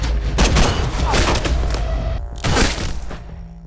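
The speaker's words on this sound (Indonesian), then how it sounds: "Velmati menembaknya hingga sang raja diktator itu pun tewas" Gunshots in a dictator-assassination scene of an action film, heavy cracks and thuds in dense bursts, close and loud, with a second burst near the end amid dramatic film sound.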